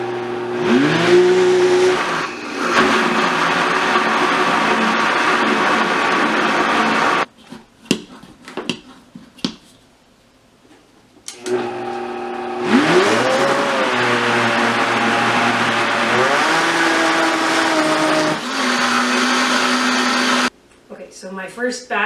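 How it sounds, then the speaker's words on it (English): Vitamix blender blending roasted pumpkin, a loud motor whine that ramps up in pitch, runs steadily, pauses with clattering and a near-silent gap, then restarts for another long run before stopping. "now I'll just start it up and blend it up"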